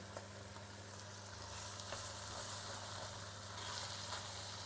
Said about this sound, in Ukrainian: на цьому етапі воно має смажитись на максимально великому вогні